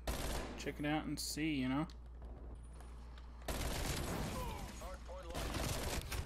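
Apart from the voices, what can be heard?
Mac-10 gunfire in video game Black Ops Cold War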